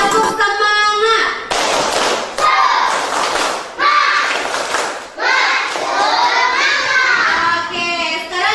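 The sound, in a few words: class of children clapping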